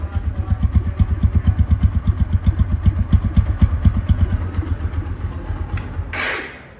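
A TVS Apache RTR 160 2V motorcycle engine idles close by with a steady, rapid thumping pulse, then briefly revs before fading out.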